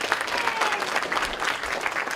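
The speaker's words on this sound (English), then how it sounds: "Clap if you want to." A convention audience at BronyCon 2014 claps in a dense, steady burst of applause that stays fairly loud for the whole couple of seconds.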